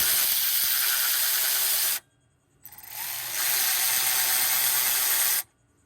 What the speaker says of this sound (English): I got my 15 mil, my electric ratchet